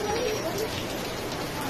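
Rain falling steadily, a dense close hiss of drops striking surfaces, continuous and even throughout the short stretch.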